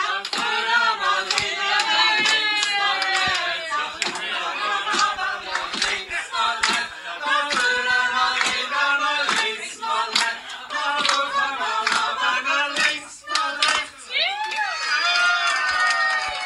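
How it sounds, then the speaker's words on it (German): A large live audience claps and cheers energetically after a music performance, with dense continuous applause, whoops and shouting voices filling the whole stretch, loud and close. "es war eine riesige Stimmung und einen grossen Applaus"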